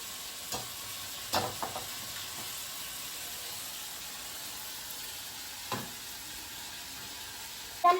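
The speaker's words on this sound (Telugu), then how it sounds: "ఇప్పుడు ఇవి ఫ్రై అవుతూ ఉంటాయి." Ingredients for a chicken omelette fry quietly in a pan, a faint, even hiss broken by a few scattered clicks of stirring, with no one talking.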